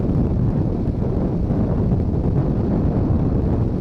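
Heavy wind buffets a Suzuki DRZ400 supermoto dirt bike at about 70 mph on the highway, a loud, continuous low roar with no talking.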